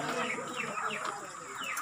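Many chickens clucking and calling together in a crowded two-tier coop holding around 6,000 birds, a dense, continuous chorus of overlapping clucks close by.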